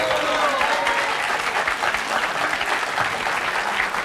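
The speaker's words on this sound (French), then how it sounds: "On peut les applaudir." Studio audience on a French television talk show applauds warmly, a dense, steady wash of clapping that holds at full strength for several seconds with no speech over it.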